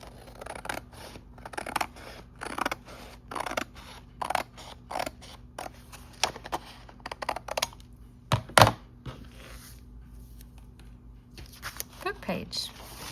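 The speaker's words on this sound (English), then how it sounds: "Yeah, I'll use my scissors for that." A run of short, crisp snips repeats unevenly up close as scissors cut book pages for a junk journal, with brief pauses and a few louder snaps near the end.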